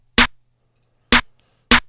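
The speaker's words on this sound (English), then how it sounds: "It's kind of like a clap plus snare" Three sharp programmed clap-and-snare hits in a sparse trap drum pattern, crisp and dry, spaced unevenly with silence between, a low hum faintly underneath.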